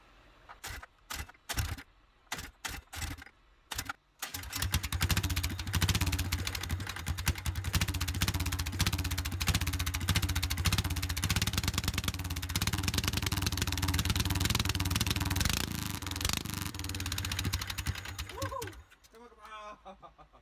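A small 9-horsepower go-kart engine sputters through a few short bursts, then catches and runs steadily at a loud, buzzing idle before cutting out near the end.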